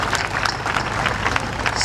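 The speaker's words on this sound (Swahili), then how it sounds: "Tuwapigie makofi Benki ya Dunia." Applause for the World Bank from an audience at a Tanzanian ceremony handing over vehicles to primary education officers: steady, dense clapping with no talk over it.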